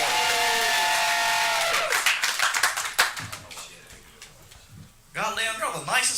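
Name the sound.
comedy club audience applause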